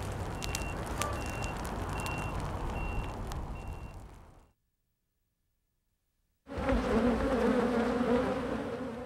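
Bees from a hive built inside a house, wrapped around a bed frame and dresser, buzz in a steady drone, break off into two seconds of silence, then return as a louder, denser hum.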